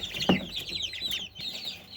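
Turkeys cluck in a farm enclosure on a ranch, a loud close call near the start followed by softer scattered clucks and chatter from the flock, with higher bird calls layered through.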